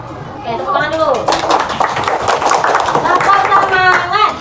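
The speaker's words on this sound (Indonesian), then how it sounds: "Oke, tepuk tangan dulu." Children in a classroom clap their hands in a steady, busy patter that runs throughout, mixed with their excited voices chattering over it at close range.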